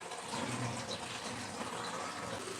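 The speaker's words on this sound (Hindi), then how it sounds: "अब मैं इसमें थोड़ा सा पानी डालूँगी और सारा मसाला इसमें डाल" Water pours steadily into a blender of ground spice masala for a fish masala, giving a soft, continuous gushing and splashing at low volume with no talk.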